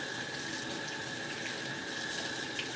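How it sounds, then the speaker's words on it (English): Steady broadband rush of tap water pouring from a kitchen sink faucet while garlic is peeled, continuous and close, with no voices. "I usually turn on the water"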